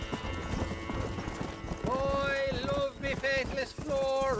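Horse hooves clip-clopping in the video game Red Dead Redemption, a steady rhythmic trot under music and talk.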